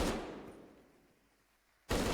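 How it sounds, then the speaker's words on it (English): A single sharp shotgun blast in a competitive first-person shooter match opens the moment, its roar decaying over about two seconds before a second loud blast cuts in at the end. "shotgun versus shotgun, and Codex is going to win it out"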